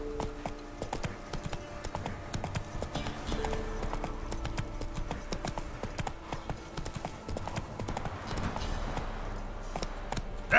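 Horse hooves clip-clopping steadily as Roach is ridden in The Witcher 3: Wild Hunt, a continuous even rhythm of hoofbeats with game ambience underneath and no talking.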